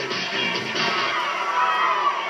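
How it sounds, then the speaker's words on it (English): A wet, rainy evening crowd at a 1984 high school football game in Warwick County, Indiana, roars with steady, dense cheering and shouting throughout, a broad wash of voices with scattered whoops rising above it. "still an excited crowd is on hand as the Castle Knights are here for the 4th week of the high school football season"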